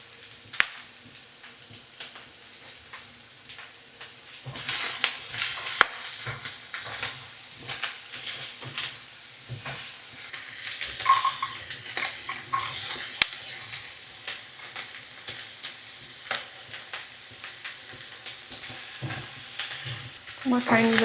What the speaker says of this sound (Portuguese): Aqui fritando e tal. Só uma tostadinha mesmo, na cebola também.